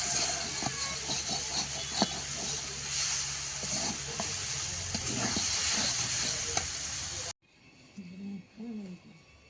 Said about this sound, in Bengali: আর এদিকে কলমি শাক ভাজাটাও প্রায় হয়ে এসেছে।